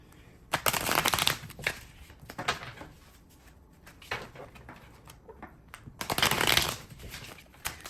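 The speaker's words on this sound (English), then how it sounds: "while we're shuffling the cards and getting them prepared" Tarot cards are shuffled in several quick riffling bursts, separated by brief pauses and soft handling noises.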